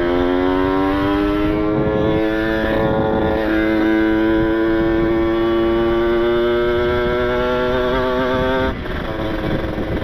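A Kawasaki Ninja RR motorcycle engine, its carburetor just reset after getting wet, runs steadily and loud up close with a rising-then-holding revving tone and strong harmonic whine, alone with no talk.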